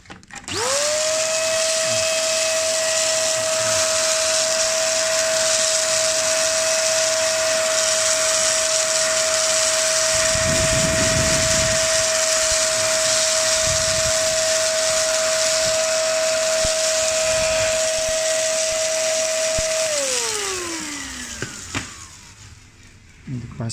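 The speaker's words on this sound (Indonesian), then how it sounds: "Ini pakai sedot nih, pakai vakum." Vacuum cleaner used to clean out a Luxman LV-105 amplifier, starting with a rising whine and holding a loud steady tone before winding down near the end, with brief scraping noises in between.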